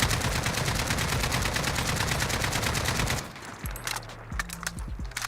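Sustained automatic weapon fire at a target's head in Modern Warfare, loud and rapid with an even rhythm, cutting off abruptly into quieter in-game ambience with sparse clicks.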